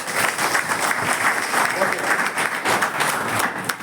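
An audience claps together at a public talk, a dense, fairly loud burst of applause that carries on steadily with voices mixed in.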